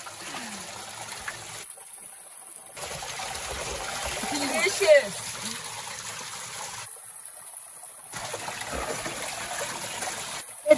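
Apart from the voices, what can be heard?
water trickling while collecting water from canyon stream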